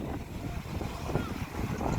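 Steady roar of strong wind buffeting the microphone at the sea during a low-pressure weather system, with a low rumble of large waves and surf beneath, continuous and fairly loud.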